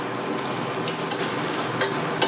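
Vegetables for a bean, brinjal and potato curry sautéing in a pan, a continuous close sizzle and crackle with a few brief stirring scrapes and no one talking.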